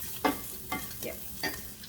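Slices of salami sizzle in a pot of rendered fat over a lowered flame while being stirred, with four distinct scraping stirs against a steady frying hiss and no talking.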